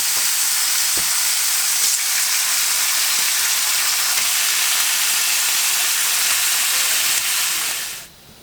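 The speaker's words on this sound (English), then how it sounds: "Quick and easy bacon egg toast sandwich" Bacon and eggs fry for a breakfast sandwich at a winter campsite, probably over a campfire. A steady, close, dense sizzle and hiss runs without a break, then drops away abruptly near the end.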